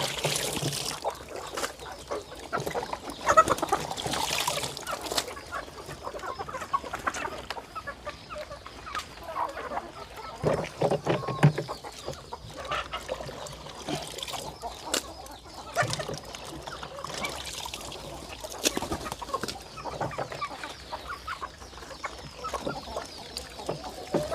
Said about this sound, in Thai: ให้น้องไก่กินด้วย